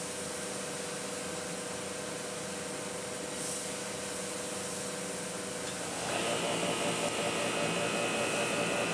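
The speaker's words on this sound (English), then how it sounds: "Always spray it off to the side a little bit first." A steady hiss of spraying runs throughout, growing louder and brighter near the end as the sprayer moves closer.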